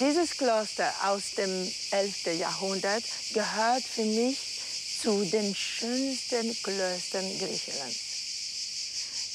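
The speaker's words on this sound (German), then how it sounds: "Das Einzige, was Sie hier hören, ist das Konzert der Grillen." Crickets chirp in a steady high, continuous drone at an 11th-century monastery, Kaisariani near Athens, while someone speaks calmly over it throughout.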